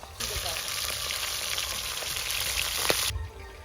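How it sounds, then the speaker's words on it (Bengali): Fish frying in a pan: a steady, close hissing sizzle that starts abruptly and runs for about three seconds before cutting off, with no voices. "মাছ ভাজা হচ্ছে"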